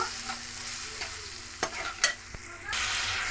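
Turmeric, cumin powder and sugar being stir-fried in a pan, a faint steady sizzle with a few sharp scrapes and taps of a spatula, then a louder hiss toward the end.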